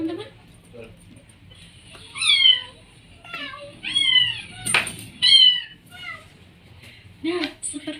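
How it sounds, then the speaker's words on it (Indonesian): A cat meows several times in a row, short rising and falling calls spaced across a few seconds over a quiet background, with a brief broadband scrape in the middle. "Nah, seperti itu teman-teman, suara kucing."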